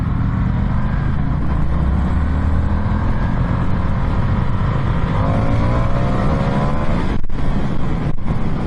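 A 2021 Indian FTR motorcycle being ridden hard: a continuous loud engine roar with wind rush that swells and climbs in pitch as it accelerates, then briefly drops off twice near the end.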